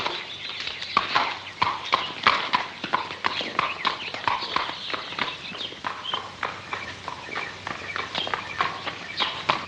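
Horse hooves clip-clop steadily at a walking pace as the animal is led away, a rapid series of sharp, fairly close knocks on hard ground continuing throughout with no talk over them.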